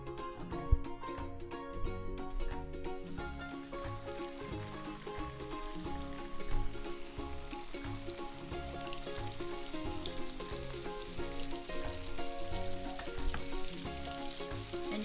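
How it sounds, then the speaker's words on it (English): Battered pork chops frying in about an inch of hot grease in a pan: a dense, steady crackling sizzle close by, running throughout with occasional louder pops, no talking. "And you can let it fry"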